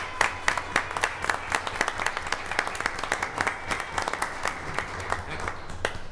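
A round of applause fills a township committee meeting room, with steady, moderately loud clapping from a modest crowd that runs throughout without talk.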